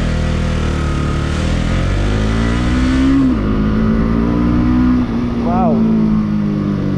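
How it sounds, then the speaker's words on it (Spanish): A Pulsar 200 NS motorcycle engine revs and accelerates with a throaty exhaust note, pitch rising and shifting as it speeds up, loud and close. "Me encanta el sonido del escape, está muy padre."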